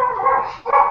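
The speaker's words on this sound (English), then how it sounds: "Sorry, that's my dog." A pet dog lets out a single loud, close bark or yelp that breaks briefly and picks up again, with no talking over it.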